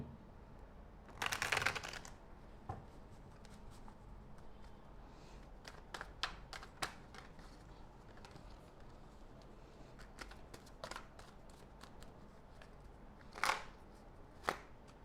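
Tarot cards being shuffled and drawn during a love reading: a brief riffle burst early on, then a scatter of crisp card snaps and taps, soft and close, with no talking.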